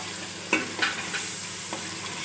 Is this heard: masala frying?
yes